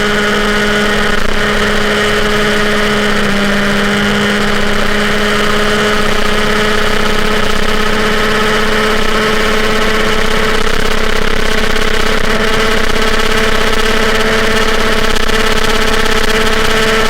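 An MBK 51 moped engine fitted with Polini crankcases and a 24 carburettor runs steadily and loudly nearby for the whole stretch, a constant buzzing drone with no speech.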